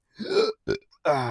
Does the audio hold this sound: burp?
yes